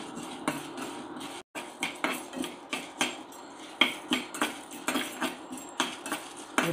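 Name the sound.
curry leaves being roasted and stirred in a pan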